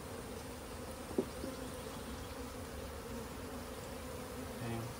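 Bees hum in a faint, steady, muffled drone, confined in a jar, about half a cup of them, with a small knock partway through.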